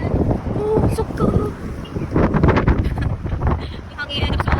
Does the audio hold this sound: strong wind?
yes